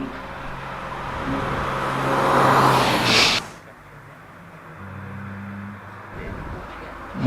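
Racing car on the British Championship hillclimb course at Prescott, engine roaring loudly as it passes close by, then fading quickly into quieter background noise with a distant engine hum returning.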